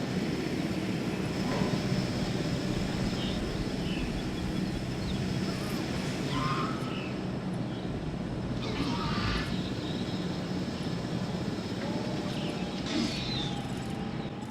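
Helicopter in the video game Jurassic World Evolution, a steady droning rotor and engine rumble holding at an even level throughout, with faint higher game sounds scattered over it.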